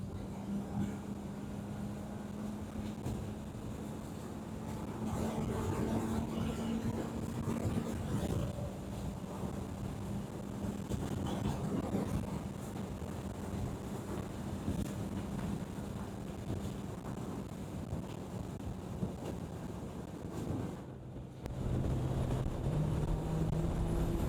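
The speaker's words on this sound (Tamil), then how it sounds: "காத்து தள்ளுது அப்படியே" Wind buffeting the helmet microphone of a Kawasaki Z900 rider on a Sunday ride, a continuous heavy roar with the bike's engine droning underneath, briefly dipping near the end before surging back.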